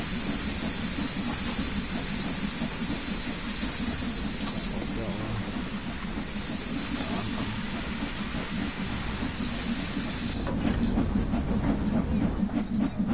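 A steam locomotive running in the video game Train Sim 3, a continuous hissing, rumbling rail drone with faint rhythmic clatter, getting slightly louder near the end; some speech-like sound mixes in.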